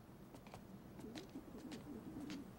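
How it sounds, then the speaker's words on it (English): Pigeons cooing at a backyard pigeon coop, soft repeated low coos over a steady outdoor background hum, faint and continuous with occasional brighter chirps. "Building a pigeon coop."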